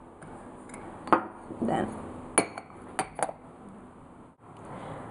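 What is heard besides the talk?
teaspoon clinking against dishes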